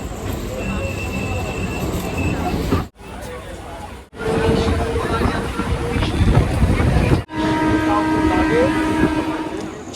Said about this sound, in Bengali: ট্রেন আমাদের ঢুকছে, সঠিক সময়েই আছে।